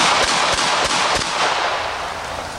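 Revolver fired with a .44 Special cartridge, several loud sharp reports in quick succession ringing out close by, with no talk.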